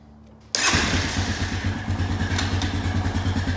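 2001 Honda Foreman ES ATV engine catching and running in gear with a little throttle, a loud, close, steady chugging rumble with a rhythmic mechanical clatter that starts abruptly after a quiet moment.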